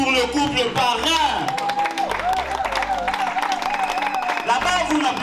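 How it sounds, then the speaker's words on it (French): Guests at a traditional wedding applauding the sponsor couple, a crowd of clapping with some cheers and whoops, mixed under music and a loud voice talking over it. "Applaudissez pour le couple parrain."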